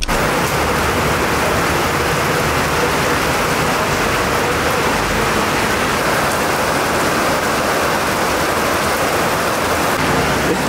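Heavy rain pours down in a dense, loud, unbroken hiss that fills the whole stretch with steady roaring noise. No voices break through it.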